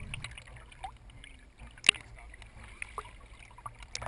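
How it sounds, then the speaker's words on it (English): Students paddle boats across open water, with faint paddle strokes and soft splashes, one brief sharp knock, and low murmuring in the background. "students appear to struggle paddling their way out of gridlock, but soon after, it's smooth sailing"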